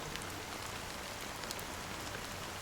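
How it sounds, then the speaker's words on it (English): Steady rain falls in the video game Honkai Star Rail, a constant even hiss of drops with a few brief louder patters and no voices. "Amidst the fine drizzle of black rain"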